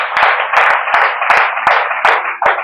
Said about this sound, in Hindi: इसके लिए तो ताली बजनी चाहिए।